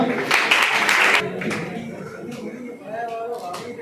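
Audience at a ceremony clapping for a person called up on stage, a burst of loud applause for about a second that quickly fades into scattered claps, shuffling and murmuring voices.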